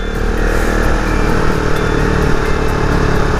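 A Husqvarna Vitpilen 701 motorcycle runs steadily while being ridden, its engine a loud, continuous drone with road and wind noise and no voices.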